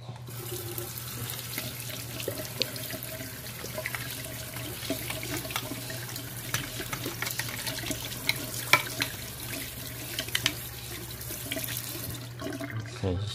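A running tap rinses eyeglasses just taken out of an ultrasonic cleaner, giving a steady, moderately quiet hiss of flowing water with small splashes and no talking.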